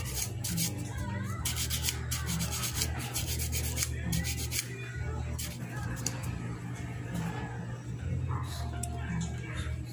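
Steady rubbing and scraping of sandpaper against part of an electric kettle, continuous and close, with a low hum beneath it.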